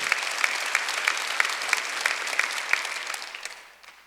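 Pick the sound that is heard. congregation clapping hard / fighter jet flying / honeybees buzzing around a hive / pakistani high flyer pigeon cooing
congregation clapping hard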